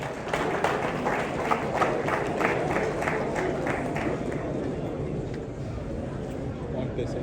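An audience at a forex expo applauds, with dense clapping and crowd noise building loudly in the first seconds and then slowly fading toward the end.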